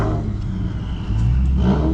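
A 2020 Dodge Charger Scat Pack at a drag strip, its engine rumbling loud and close, with a rising rev swell in the second half over the steady low growl.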